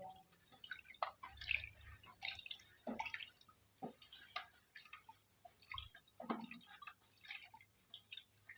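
Caustic soda being stirred into water to dissolve it, heard as close, irregular clinks, taps and small liquid sloshes from the mixing container, fairly quiet throughout.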